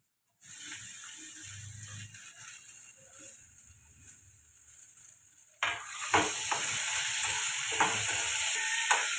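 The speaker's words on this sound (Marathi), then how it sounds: "तर टॅमॅटो टाकून देतो" Tomatoes drop into a hot pan with onions, first a soft sizzle, then a louder burst of frying as stirring scrapes and clinks the pan, close and without talk.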